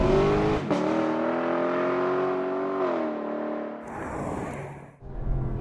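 A 2018 Lexus LC500 V8 coupe engine revs and drones steadily, pitch rising and falling, with a brief high whine near the end as the engine surges again.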